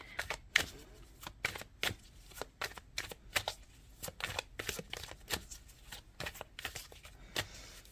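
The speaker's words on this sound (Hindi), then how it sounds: "मैं 2 कार्ड और निकालूंगी।" Tarot cards are shuffled and drawn in a steady run of crisp riffles and slaps, each flick sharp and close, repeating irregularly for the whole stretch with no talking.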